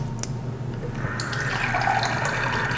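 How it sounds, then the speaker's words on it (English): Water pours from a tap in a steady, soft trickle to thin out a homemade chocolate chai smoothie. The splashing runs close and fairly quiet for a few seconds, with no talking. "I'm gonna add a little water."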